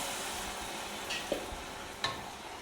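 A rice dish for kuska rice is stirred in a pot over a steady low sizzle, with a few soft scrapes and clinks of the spoon.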